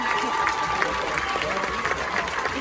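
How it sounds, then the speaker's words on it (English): An audience aboard a Carnival Dream cruise ship applauds in a sustained round of clapping that fills the room at steady volume, with a few voices mixed into the crowd noise. "Please stand on up for a huge round of applause."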